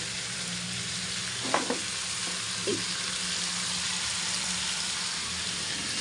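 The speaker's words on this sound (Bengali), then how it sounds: "এই দেখো একটু নাড়লাম" Shrimp and taro stolons sizzle steadily in a pan, a soft, even frying hiss, with a few brief scraping clicks as a spoon stirs them.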